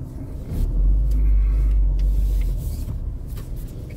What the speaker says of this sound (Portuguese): Ih, tá chegando o carro?